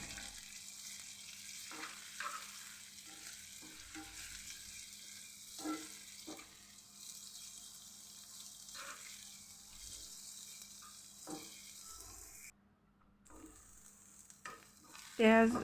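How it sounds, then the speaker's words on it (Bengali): Chopped onion and garlic fry in ghee, a soft, steady sizzle broken by occasional stirring scrapes and clinks in the pan, fairly faint and close, with a brief louder knock at the end. "একসাথে আমি পেঁয়াজ আর রসুনটাকে ভেজে নিব। ঘিয়ে ভেজে নিলে খেতে বেশ ভালো লাগবে"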